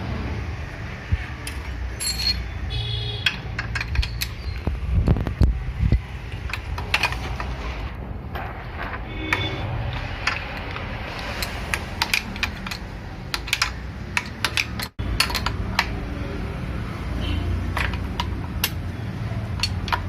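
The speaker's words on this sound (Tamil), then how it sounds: "இப்போ இந்த 17 ஸ்பேனர் போட்டு லாக் பண்ணிட போகிறோம்" A 17 mm spanner works the fork cone set nut on a Splendor motorcycle, making a close, busy run of light metallic clicks, ticks and clinks with brief pauses over twenty seconds, with no talking.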